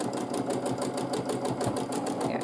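A sewing machine stitches a quilt in a fast, even, rhythmic chatter. It sounds close and continuous throughout.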